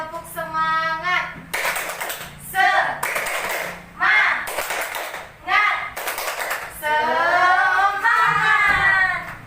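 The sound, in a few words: group doing rhythmic 'tepuk semangat' clapping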